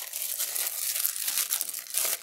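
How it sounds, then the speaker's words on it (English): A thin plastic bag crinkles and rustles continuously as it is wrapped around a CPU cooler, close and crisp, with no talking. "So what I'm going to do is put it in a plastic bag"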